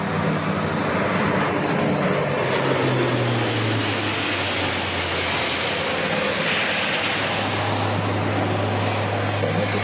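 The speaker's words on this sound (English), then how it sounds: "they will be controlling the C-130J Hercules, which is flying over to do a circuit before it comes into land" A Lockheed C-130J Hercules turboprop transport passes overhead at an airshow, its loud, steady propeller drone dominating throughout with a sliding engine tone as it flies by, no voices heard.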